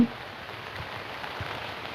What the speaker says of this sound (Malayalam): ഓ, നശിച്ച മഴ.